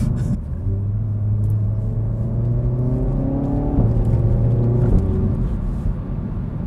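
A car's engine under manual-mode driving rumbles loudly and close, its pitch climbing and then dropping sharply twice as it revs through a double downshift into a tight corner, with no voices.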